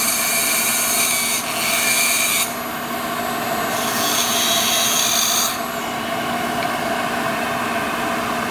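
A dental impression tray being trimmed with a rotary lab tool, producing a steady loud rasping grind that swells and eases in a few longer passes, close up with no talk.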